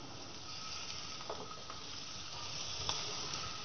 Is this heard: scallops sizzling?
yes